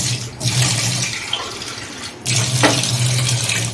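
Water runs steadily from a tap onto a money plant in two bursts with a brief pause between, a close, continuous splashing flow.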